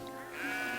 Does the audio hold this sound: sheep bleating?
yes